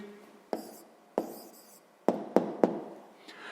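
A pen moves across paper as a number is written down for a sixth-grade maths exercise, with short scratchy strokes separated by several sharp taps, close and fairly quiet.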